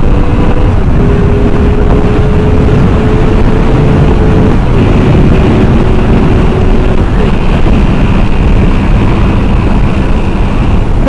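A Honda VFR800F motorcycle accelerating hard through the gears, its engine note loud, close and continuous with a steady rising drone and heavy wind rush, no voices over it.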